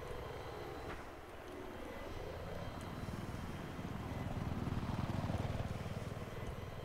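A helicopter in the combat video game Global Conflict drones with a steady rotor and engine roar that swells slightly louder midway, with no clear talk over it.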